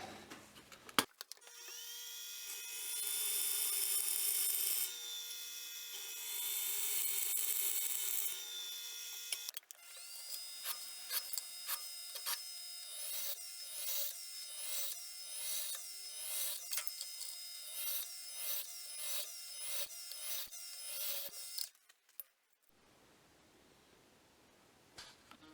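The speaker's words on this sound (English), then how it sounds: "All right, let's get to drilling." A drill bores pinholes and weight reduction holes through the steel tang of a forged harpoon point camp knife, first a long steady whine, then a series of rhythmic pulsing bursts as the bit works, up close and alone.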